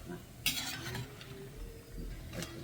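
Homemade tapioca chips being tossed with salt and chilli powder, a spoon scraping and clinking against the vessel in a few short strokes over a faint sizzle, close by and with no talk.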